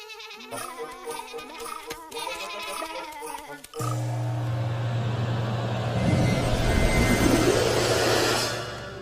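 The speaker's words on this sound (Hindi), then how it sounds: "अपनी भेड़ें संभालो श्रीधाम" Sheep bleat in a mythological drama set in Gokul, with a few close, quavering calls over a musical score. A broad rushing wash then builds and swells beneath them.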